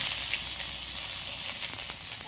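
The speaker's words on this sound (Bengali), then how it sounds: "কড়াইয়ের মধ্যে কিন্তু আবারও তেল দিয়েছি, তেলটা গরম হয়ে গেছে। এবার দিয়ে দেবো পেঁয়াজ কুচি" Chopped onions hit hot oil in a wok, giving a steady, close sizzle and crackle that runs unbroken throughout with faint spatter pops and no talk.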